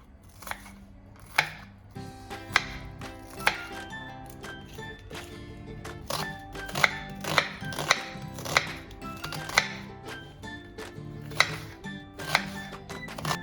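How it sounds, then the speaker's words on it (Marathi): An onion being finely chopped with a knife produces a steady run of sharp, close knife taps on a board, with a few louder strikes standing out and no talking over them. "आता हा पण कांदा एकदम अगदी बारीक असा चिरून घ्यायचा"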